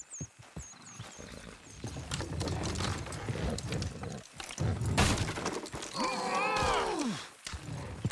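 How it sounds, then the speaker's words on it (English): Horses haul down a wooden structure in Red Dead Redemption 2, with hoof clatter, creaking and a loud crack of collapsing timber, followed by a horse's drawn-out whinny amid the game's ambient noise. "Horses will pull it clean down."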